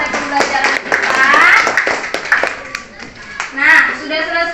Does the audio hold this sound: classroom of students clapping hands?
yes